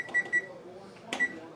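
A digital kitchen timer gives several short, high electronic beeps as its buttons are pressed, close and clear over a quiet room with a soft clunk between them.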